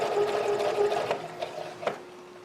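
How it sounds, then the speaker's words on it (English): A sewing machine stitches a sleeve into fabric, running in a steady close whir that slows in short bursts and briefly stops near the end. "The needle, like this machine, because the needle goes down, and I can just keep flopping the fabric back and forth."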